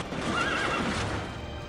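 A horse in the chariot-racing video game Chariot Wars gives a loud, wavering neigh that rises and falls over about a second, with steady game noise and hoof clatter underneath.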